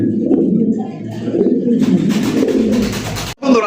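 Fancy pigeons, including Danish birds, coo steadily and close by, a low continuous throaty murmur that carries through the whole stretch with only a brief break near the end.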